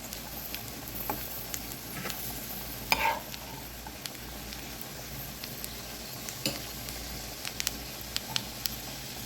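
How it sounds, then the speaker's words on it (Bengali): Nuts frying in ghee give a soft, continuous sizzle with scattered sharp crackles and pops, fairly faint and close. "বাদাম আমি ঘির মধ্যে ভেজে নিয়েছি"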